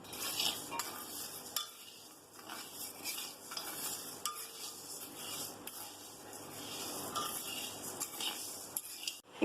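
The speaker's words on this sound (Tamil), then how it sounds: "நம்ம மீடியம் ஃப்ளேம்லயே வச்சு கொஞ்சம் நல்லா கோல்டன் கலர்ல வர அளவுக்கு வறுத்துக்கணும்" Urad dal stir-roasted over a medium flame in a pan for coconut idli podi, a steady close dry scraping and rustling of the lentils with faint sizzle running throughout, no voices.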